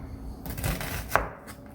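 A knife dices food on a cutting board in a home kitchen, giving a quick run of close, soft chopping taps with one sharper knock near the end.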